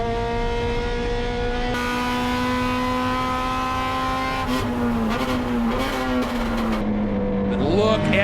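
Honda Civic four-door race cars roll through a turn at a Midwest racing festival, their engines droning loudly with pitch shifting as they pass. Throttle changes and a brief tire squeal come near the end.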